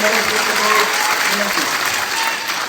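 Loud, sustained applause from a crowd at a public meeting at an APMC market, honouring the district collector, with faint voices and tonal murmurs mixed under the clapping.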